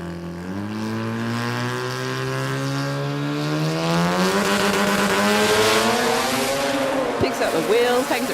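A drag race car roars down the strip at full throttle, its engine note climbing steadily in pitch as it accelerates through the run, loud and continuous, with a commentator talking over it.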